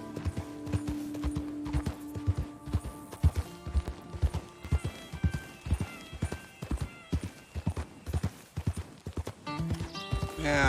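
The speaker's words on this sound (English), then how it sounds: "Trying to break a horse." Rhythmic hoofbeats clop steadily with a horse neighing and snorting over them as it is broken in, in Red Dead Redemption 2, a busy, bouncing gallop that keeps going throughout, with a whinny near the end.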